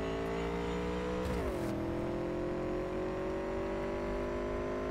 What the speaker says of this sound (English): I love the sound that this bike makes.